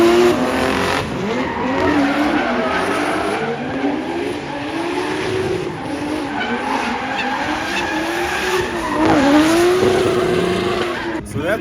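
A Toyota Supra and a BMW E36 drift head to head with long, wavering tire squeals over a steady roar of engines, continuous and loud throughout, at a Johannesburg drift event.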